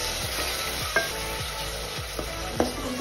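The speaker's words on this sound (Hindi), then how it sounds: "पकाने के लिए थोड़ा सा वाटर ऐड कर दूँगी इसमें हल्का सा" A little water goes into a pan of cooking chicken, and a steady hiss of sizzling frying follows, broken by a few scraping stirs and light utensil knocks against the pan.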